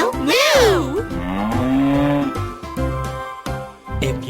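School children at an assembly sing drawn-out "moo" calls that imitate a cow. The voices are loud and close, with a pitch that swoops and then holds steady.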